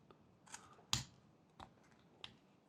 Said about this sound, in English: we need to also cut from this side to cut off the chips at the end of the cut